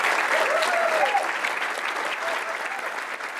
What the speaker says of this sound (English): join me in a round of applause for the diocese and the bishop